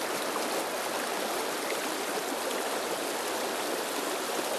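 A river flowing in a brook trout stream, a steady, close rushing wash of moving water with no breaks and no talking.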